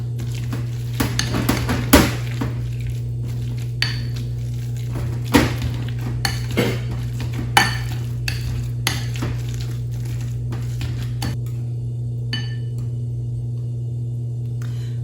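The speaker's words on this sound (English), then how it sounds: "Let's switch to a potato masher because we really want our beans to be mashed up and have no chunks." Potato masher working through beans and jackfruit in a bowl: a string of irregular close knocks and clinks against the bowl over a steady low hum, with quieter stretches near the end.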